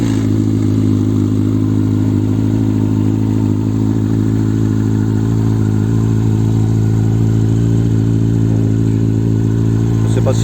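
A Kawasaki ZZR 1400 motorcycle engine runs at a steady, loud, low idle close by, a constant deep hum with a faint clattering texture throughout.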